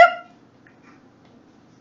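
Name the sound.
reader imitating an elephant's hiccup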